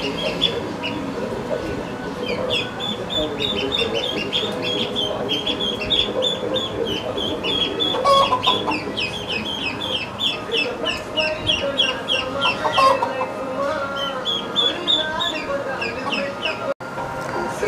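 A group of chickens clucking in a new home's yard, with repeated close, busy clucks and calls running throughout the whole stretch.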